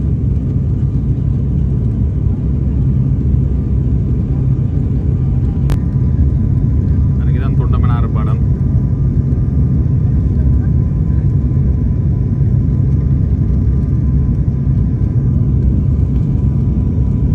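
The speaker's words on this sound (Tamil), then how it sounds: "ஃப்ளைட் பார்த்திங்கன்னா லேண்ட் ஆக போகுது" A passenger airplane on its landing approach over the coast near Jaffna, Sri Lanka, heard from inside as a steady, loud low engine rumble and whir that holds evenly throughout, with a brief faint chime partway through.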